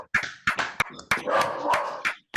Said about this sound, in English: I like the dog joining in as well